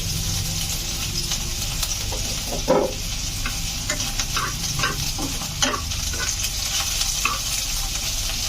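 Chopped onion sizzles and fries steadily in a pan while being stirred, with scraping utensil strokes and a sharper clatter around the third second, close and continuous throughout.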